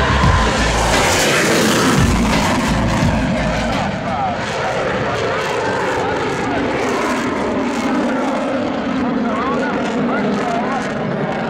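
A loud Eurofighter Typhoon jet roars overhead at an air show, a broad thunderous rush of engine noise that swells and slowly fades, with no voices.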